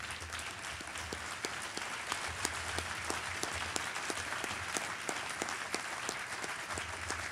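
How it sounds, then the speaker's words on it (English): A hall of fame induction crowd stands and gives a warm round of applause for the 2014 class, dense and steady clapping from many hands filling the room throughout. "give a warm round of applause for the class of"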